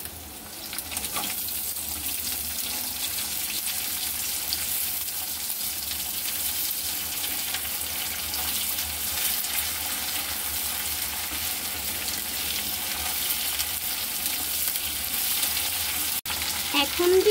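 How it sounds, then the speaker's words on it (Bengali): Dried fish (shutki) frying in a pan with onions, a steady close sizzle running the whole way with occasional stirring and a brief scrape near the end. "এখন দিয়ে দিচ্ছি শুটকিগুলো।"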